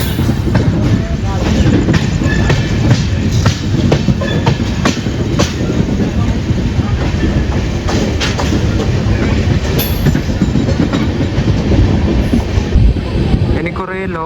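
A Mumbai local train passes at Panvel station, a loud continuous roar with rhythmic clickety-clack of wheels over rail joints and occasional squeals, close by and steady throughout.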